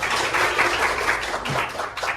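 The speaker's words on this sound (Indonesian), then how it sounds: "Tepuk tangan." Classroom of students clapping their hands together, a loud, continuous patter of many claps with a few voices mixed in.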